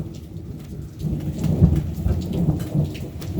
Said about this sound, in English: well, that's a good ripple thunder